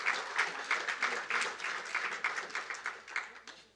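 Scattered audience applause at an event on women's access to information, with moderately quiet, irregular clapping bursts that rise and fall steadily for a few seconds without voices.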